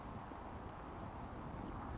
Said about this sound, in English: It is quite windy, folks, so how's the audio coming through?